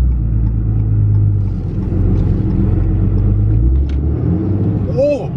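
A turbocharged car fitted with a Pedal Commander accelerates hard, its loud engine rumbling and revving steadily close by before the pitch rises sharply near the end.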